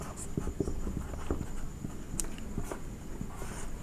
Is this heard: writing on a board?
yes